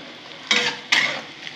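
A spoon scrapes twice through bitter gourd and roasted cumin and coriander spice mix in a pan, two short, close, gritty stirs with quiet gaps between them.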